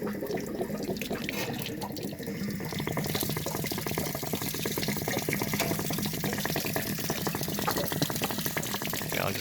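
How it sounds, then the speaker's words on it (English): Water gushes steadily from the drain of a travel trailer, a continuous rushing, splashing flow heard close by and alone, holding at an even level throughout. "there's going to be a lot of water that comes out there."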